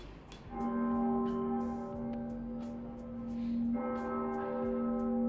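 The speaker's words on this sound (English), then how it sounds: "witness the actual bell ring" A large church bell rings in the medieval belfry tower in Bruges, Belgium, two resonant strikes with a long humming sustain, heard up close over faint ticking of the clock mechanism.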